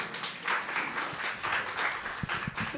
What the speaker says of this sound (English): So give yourself a hand again.